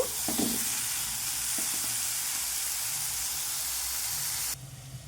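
Potatoes and green peas frying in a pan give a dense, steady hissing sizzle, with a couple of brief stirring clatters early on, before the sound drops abruptly just before the end.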